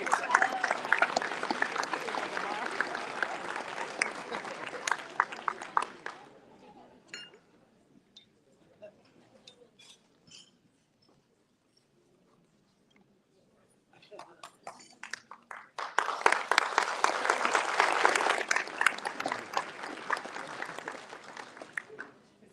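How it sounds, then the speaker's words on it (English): An awards ceremony audience applauds loudly for several seconds. The clapping fades into a quiet stretch with faint clinks, then a second loud burst of applause follows. "Round of applause."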